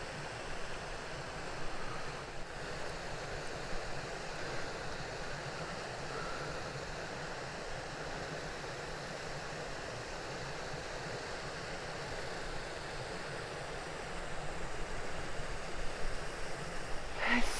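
Water flows steadily in a Dartmoor brook on a hot day, a continuous, even rush that holds at a moderate level throughout with no voices.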